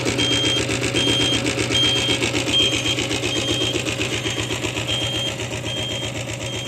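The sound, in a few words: Royal Enfield diesel Bullet motorcycle engine idling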